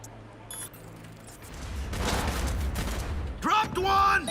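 Gunfire in the Cyberpunk video game, a dense fusillade of shots swelling mid-clip with a loud closing flurry, mixed with game effects and a brief voice.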